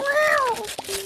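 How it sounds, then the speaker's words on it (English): A cat gives a single loud, close meow with a rising then falling pitch, followed by a short softer cry, with no other sounds around it. "They're my cats, Cosmo and Bella."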